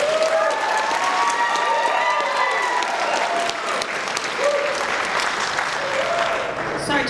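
An audience at a county Republican debate breaks into loud applause, dense continuous clapping with voices and some cheering mixed in throughout.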